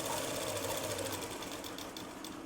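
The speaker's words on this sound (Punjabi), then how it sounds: "ਆਪਾਂ ਨੇ ਇਹ ਸਲਾਈ ਜਿਹੜੀ ਇਦਾਂ ਲਗਾ ਲੈਣੀ ਹੈ" A sewing machine stitches a kurta in a continuous close whirring hum, steady and unbroken throughout.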